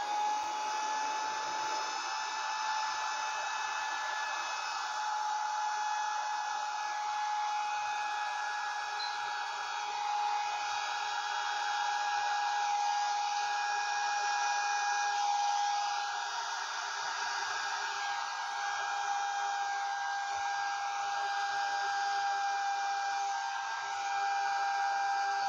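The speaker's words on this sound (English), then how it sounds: "I'm going to use my handheld blower." A handheld blower spreading paint runs steadily with a constant high-pitched motor whine and airy rush, holding an even level throughout.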